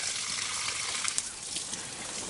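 Cooler water poured onto fig tree pots inside a greenhouse, a soft continuous splashing gush with a faint hissy trickle, close and fairly quiet, with no voices.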